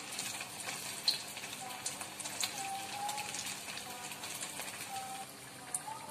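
Samosas fry in oil over low heat, giving a soft, constant sizzle with occasional small pops and crackles, quiet and close.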